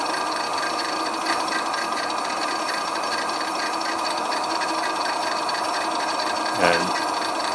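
An electric dynamometer with an electromagnetic eddy current brake runs with a steady, loud mechanical hum and whir and a faint rattle, with a brief thump near the end as the braking load changes.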